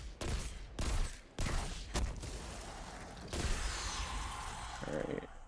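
Gunfire in Destiny 2 (Outbreak Prime mission): dense, loud bursts of rapid shots in quick clusters across the first two seconds, then a steadier rattle of fire with mechanical clatter continuing to the end.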